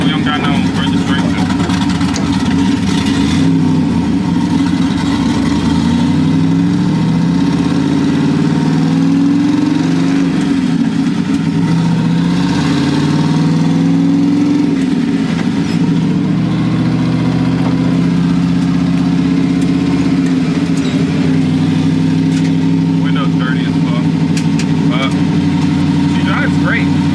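A turbocharged LS-swapped Nissan 240SX engine idling loudly close by, a steady low rumble that rises and falls slightly, with people talking over it.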